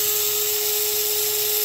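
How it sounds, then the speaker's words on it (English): A small power drill whirs steadily while boring holes in a Round2 USS Enterprise C plastic model kit, a constant high whine with no pauses, close to the mic and heard alone. "keeping that drill bit in as far as it'll go to keep it from breaking"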